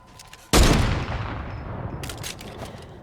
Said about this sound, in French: Donc là je vais commencer à tirer d'un seul coup.